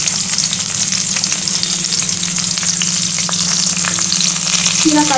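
Chopped onion and three or four green chilies fry loudly in hot oil in a pan, a dense continuous sizzle with faint stirring, close and without talk.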